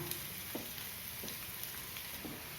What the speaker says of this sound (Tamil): சும்மா ஒரு கலர் கிளறி வச்சுட்டு எடுத்துடலாம்